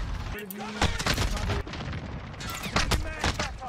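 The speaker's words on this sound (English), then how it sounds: "I'm getting shot from the left" Rapid gunfire bursts in a first-person shooter, several volleys crackling through the stretch while a player voice talks over the shots.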